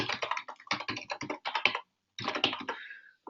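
Rapid typing on a computer keyboard while filling in a dialog, bursts of close, crisp key clicks in quick uneven rhythm, a brief pause, then another flurry of keystrokes.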